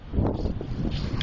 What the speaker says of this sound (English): Oh, it's so windy now. It's picking up.